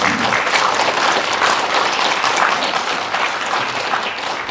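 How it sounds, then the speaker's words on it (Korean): Steady, loud applause from a large audience at a Korean meditation leaders' forum, continuous and dense throughout. "자, 박수로 맞이해 주십시오."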